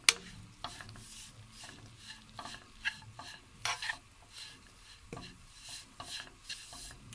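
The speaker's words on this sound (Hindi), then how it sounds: "ये मैं बेसन की बुनाई कर रही हूँ" Gram flour being roasted in ghee for sugar-free besan laddu, with a spoon scraping and stirring the pan in irregular strokes over a faint, quiet sizzle.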